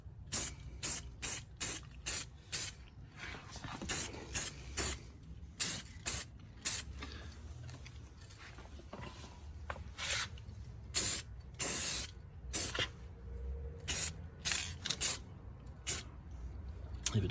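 Aerosol clear coat sprayed in repeated short bursts onto faded Brembo brake calipers, a heavier second coat, the hissing blasts loud and close with brief pauses between them.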